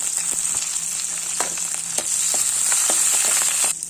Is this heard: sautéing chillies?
yes